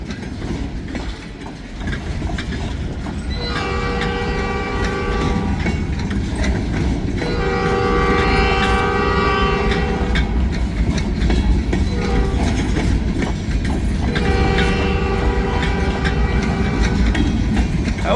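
A freight train with center-beam cars rumbles past steadily in heavy snow for the whole stretch, wheels clanking and rails squealing in bursts, loud and close with no talking.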